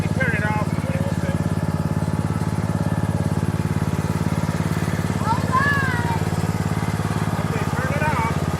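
A tractor engine runs steadily close by, a constant low droning hum with a rapid regular pulse, while people talk over it.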